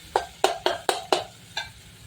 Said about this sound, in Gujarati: આમાં એકલા થઈ જાય કોથમીર લીંબુનો રસ ને બધું